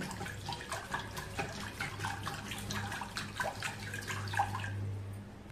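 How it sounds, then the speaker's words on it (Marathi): Continuous sloshing and frothy churning of curd and water in a vessel to make buttermilk, close and steady, with a faint low hum underneath. "असं छान फेस येईपर्यंत हे दही पाणी घातलेलं चांगलं घुसळायचं"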